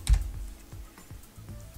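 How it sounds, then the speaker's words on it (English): Fingers type on a computer keyboard, a short run of soft, irregular key clicks heard close up in a quiet room. "I'm going to find it by typing part of its name in."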